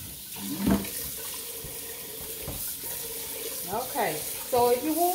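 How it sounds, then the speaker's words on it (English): Tap water runs steadily as a cooking pot is rinsed out at a kitchen sink, with splashing and sloshing that shifts in pitch toward the end, close and moderately loud. "Rinse my pot out here."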